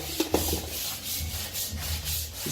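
Grout being scrubbed with whitening cleaner made from household products, a steady rough brushing rub back and forth, close and fairly loud, with no talk.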